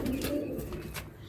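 Low, rounded cooing from a Madrasi high-flying pigeon, a steady throaty murmur heard up close, with a few faint higher clicks and rustles behind it.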